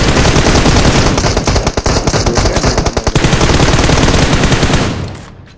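Loud, sustained automatic gunfire in rapid bursts in the video game BGMI, close and relentless for several seconds before fading out at the end.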